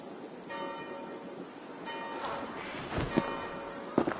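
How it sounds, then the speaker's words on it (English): Church bells ring in the Assassin's Creed Valhalla video game, their sustained tones sounding faintly in two strokes amid quiet ambience with a few soft thuds and footsteps. "Do you not hear the bells?"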